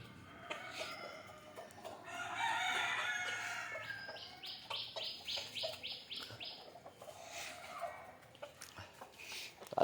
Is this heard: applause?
no